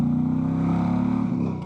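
A 2025 Indian Challenger Elite motorcycle accelerates in third gear, a loud, close, steady engine drone with throbbing pulses that dips slightly near the end.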